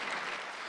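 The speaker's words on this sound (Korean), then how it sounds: "박수 한번 치세요." A brief burst of congregation applause at a Sunday church service, a dense wash of clapping lasting under a second, moderately loud and heard alone.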